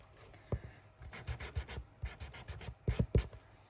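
Sandpaper rubbed over a small UV resin charm, a run of close, uneven scratchy strokes with short pauses, alone and fairly quiet.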